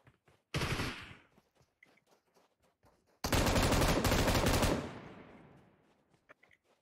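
Automatic gunfire in the mobile battle game PUBG Mobile: a short loud burst, a pause, then a longer sustained volley that trails off into faint scattered shots.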